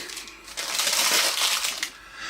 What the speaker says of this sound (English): just peel back the paper gently.